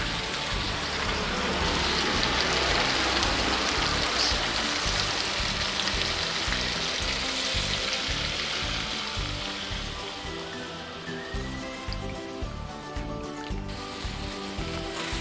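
Coconut milk hitting a hot pan while cooking kambar banang, a Tapin regional dish, giving a loud, steady broadband sizzle and crackle that holds throughout and eases slightly toward the end, with no talking.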